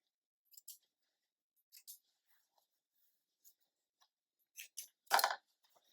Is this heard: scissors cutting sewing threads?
yes